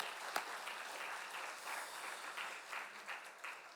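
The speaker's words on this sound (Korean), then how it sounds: "우리 힘찬 우리 총저전도 회원들에게 격려의 박수 한번 보내겠습니다" A congregation at an early-morning Saturday church service gives a round of encouraging applause, a steady, moderately quiet patter of many hands clapping for a few seconds with one sharp clap near the start.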